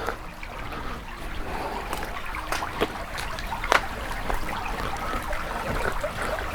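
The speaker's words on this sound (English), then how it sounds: "the water is actually rushing fairly well" A park stream runs over rocks, swollen after heavy rain. The rushing and trickling water stays fairly quiet and continuous, with a few small splashes and clicks nearby.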